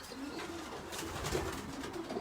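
Pigeons coo steadily inside a racing pigeon loft, a dense, close chorus of low throaty calls with rustling and wing movement throughout.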